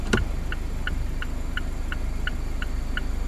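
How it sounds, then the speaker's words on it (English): Regular turn-signal ticks from a 2019 Mazda MX-5 Miata at its high volume setting repeat at an even pace, clear and fairly loud above a low idling engine rumble. "And here's the turn signals on high."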